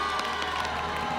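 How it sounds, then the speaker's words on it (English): Crowd cheering and applause at the Miss South Africa finale, a brief steady wash of noise with scattered whoops. "we should all give her a round of applause"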